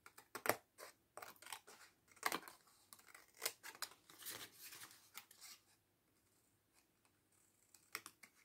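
Scissors cutting paper squares for a card: close, crisp snips and papery rustles in irregular bursts, thinning to quiet handling before a final few cuts.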